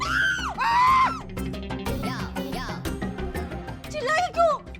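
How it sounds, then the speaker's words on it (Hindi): A woman in a Hindi TV comedy screams shrilly, with sustained loud cries at the start and again near the end and a busy, noisy stretch in between. "आप क्यों चिल्लाई?"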